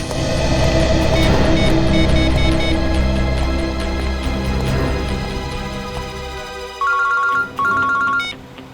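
A phone ringtone sounds in a Bengali CID crime-drama scene, playing over a loud musical score and ending in two clear repeated electronic tone bursts near the end.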